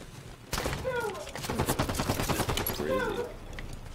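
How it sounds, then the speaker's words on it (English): Gunfire rattles during an Infected match in the shooter Halo 5, a loud, fast string of shots lasting a few seconds amid game effects, with a voice talking over it. "Let me try to shoot someone in the head real quick."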